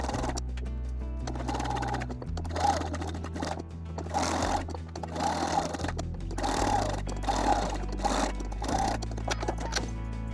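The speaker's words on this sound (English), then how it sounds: "Just sew with the zigzag stitch to attach them." A sewing machine runs zigzag stitches to join two edges of an altered 1980s vintage dress, its motor humming steadily in close, sustained bursts with brief pauses between runs.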